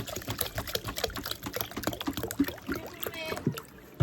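Rice being washed by hand in water outdoors gives rapid splashing, swishing and sloshing, close and busy, ending with a brief pour.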